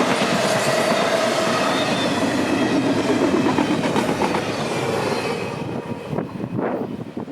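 A freight train passes close by with loud rumbling wheels, rhythmic clickety-clack and faint squeals, gradually easing off toward the end.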